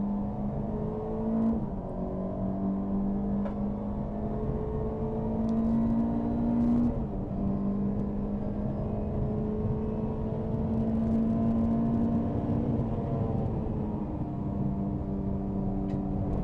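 Touring race cars in a CSCC Tin Tops and Turbo Tin Tops race at Silverstone, with a Renault Clio among them, roar steadily close by, engine notes rising and falling through gearchanges as the cars stay bunched together the whole way.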